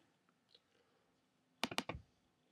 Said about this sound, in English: double click it